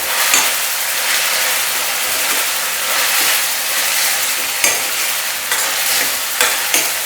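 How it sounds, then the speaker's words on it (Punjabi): Three medium tomatoes stirred into palak dal frying in a pan, a loud steady sizzle with soft scraping stirs and occasional sharper clicks of the spoon, close and without talk. "ਇੱਥੇ ਹੁਣ ਆਪਾਂ ਇਹਦੇ ਵਿੱਚ ਟਮਾਟਰ ਮਿਕਸ ਕਰ ਦਿੰਨੇ ਆ"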